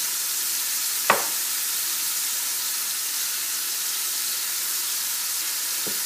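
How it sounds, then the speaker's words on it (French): Minced meat frying in a pan, with a steady, close hiss of sizzling fat throughout and a single brief utensil knock near the start. "Donc dans la poêle, on fait revenir la viande en premier."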